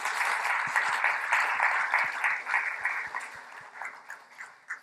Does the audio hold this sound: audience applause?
yes